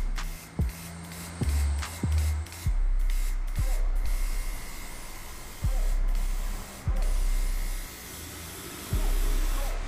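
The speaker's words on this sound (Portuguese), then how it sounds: "Então você só joga o aerógrafo no preto." An airbrush sprays black hair pigment in repeated hissing bursts of a few seconds each, separated by short pauses, close and steady with no talk over it.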